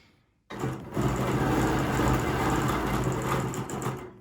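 A sewing machine runs a steady, fast stitching whir after a short quiet start, close and loud, as it sews back and forth along a ruler while quilting a star design.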